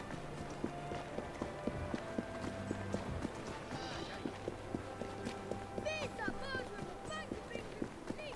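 Horse hooves clip-clop steadily in Assassin's Creed Syndicate, set in a Victorian-era city, repeating at a quick walking-to-trotting pace under a dense game soundtrack with background voices.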